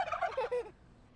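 A farm-raised Thanksgiving turkey gobbles in one loud, rapid, warbling burst that breaks off about halfway through, leaving quiet background.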